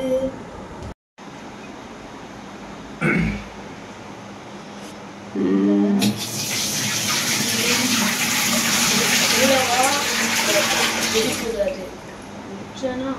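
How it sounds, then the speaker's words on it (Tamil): Water poured from two buckets during fish lice and anchor worm treatment makes a loud, rushing splash that runs for several seconds after a few quieter handling sounds, with voices around it. "இப்போ நாங்க இந்த 2 பக்கெட்ல இருக்கிற தண்ணியையும் எடுத்து அதுல ஊத்தணும்"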